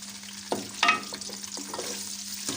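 Onions dropped into hot ghee begin frying, with a few clattering knocks and stirring scrapes over a sizzle and a steady low hum close by.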